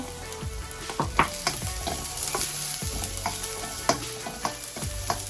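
Small shallots sizzle and fry in a pan for a spicy prawn dish, a steady crackle broken by repeated scrapes and clacks of a spoon stirring, close and fairly loud, with no talking.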